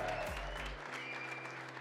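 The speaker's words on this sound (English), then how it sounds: "Big round of applause for Helen" Audience applause at the Microsoft Excel World Championship 2024 game day, a steady wash of clapping from a crowd after a low rumble and thump at the start, moderately loud throughout.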